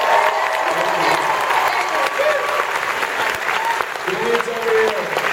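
Comic-Con panel crowd applauding and cheering, a steady dense wash of clapping with a voice talking over it.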